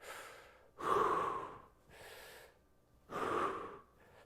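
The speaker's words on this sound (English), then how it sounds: "Breathe in." Three audible breaths drawn and let out during a kettlebell back exercise, close and fairly soft, the breaths separated by short quiet gaps.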